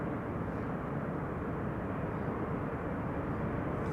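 An airplane lands at Amsterdam Schiphol Airport with a steady, broad roar of engines and rushing air that holds constant and fairly loud throughout, with no voices.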